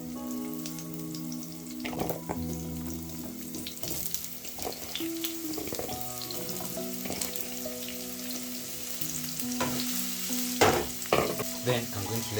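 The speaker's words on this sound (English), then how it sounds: "Then once my cooking oil is also hot enough, I'll go in with my potatoes." Potato wedges fry in hot cooking oil in a pan, giving a continuous close sizzle with scattered pops, crackles and utensil clinks.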